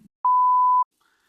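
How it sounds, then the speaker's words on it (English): A single steady electronic censor beep lasts just over half a second, clean and alone against silence. "I'll say who it is, but we'll have to beep it out."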